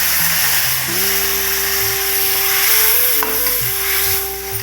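Boiled vegetables drop into a sizzling tempering of curry leaves and are stirred for sambar rice, making a steady, close, bright frying hiss with a low tonal hum running beneath it.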